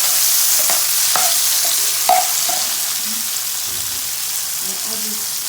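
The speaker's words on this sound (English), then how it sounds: "I want to fry my tomato" Tomato fries in a pan with a steady broad sizzle, broken by a few sharp clicks and scrapes of stirring near the start.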